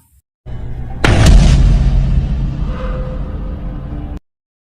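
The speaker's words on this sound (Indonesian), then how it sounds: "Namun tiba-tiba cop menembak Trevor" A sudden loud gunshot in a movie scene, a single heavy boom that bursts over a low rumbling background and rings out slowly, with no talk during the blast.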